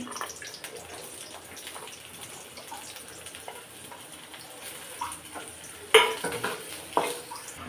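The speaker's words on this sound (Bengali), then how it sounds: "এই পাশ থেকে আমি আবার শুটকির কড়াই বসাই দিলাম, রসুন আর মরিচ কেটে নিয়েছি।" Dried fish (shutki) cooks in a pan with garlic and chili, giving a soft, low simmering sizzle with scattered light clinks of a utensil against the pan and a sharper clatter toward the end.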